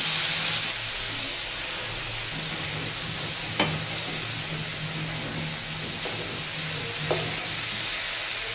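Spice paste sizzles and fries steadily in a pan for a Bengali prawn malai curry, a continuous close hiss with a few sharp clicks of stirring, no voices.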